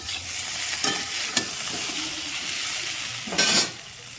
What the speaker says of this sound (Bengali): মিষ্টি কুমড়ার সাথে সবজির সাথে ভালো করে ভেজে নিব